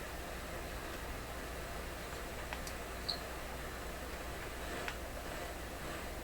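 Steady broadband static hiss from a McIntosh MR71 FM receiver fills the whole stretch, constant and even, with a couple of faint clicks but no voices or tones.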